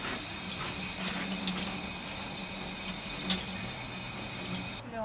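Tap water runs steadily into a campsite kitchen sink while squid is washed, a close, continuous hiss and splash with slight shifts in the flow and no one speaking.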